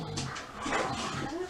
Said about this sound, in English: That's my dogs playing.